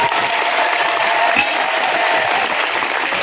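A crowd at a devotional jagran for the Mother Goddess claps hard and continuously, a dense, even wash of applause with no let-up.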